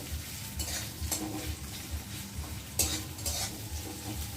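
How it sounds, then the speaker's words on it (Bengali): Onions and green chillies fry in oil in a pan for a pointed gourd dish, a soft sizzle under intermittent spatula scrapes and stirs close by, no talk heard. "দেখো ভাজা হচ্ছে পেঁয়াজটা"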